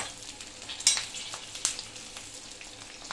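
Green chillies sizzle and fry in hot oil for pickle, a soft, continuous crackle broken by a couple of sharper stirring scrapes and pops near the pan.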